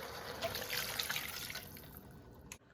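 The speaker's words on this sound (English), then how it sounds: "to this I'm going to add 2 cups of water" Water pours from a vessel into a cooking pot of beef chunks, a close, steady splashing gush that tapers off near the end.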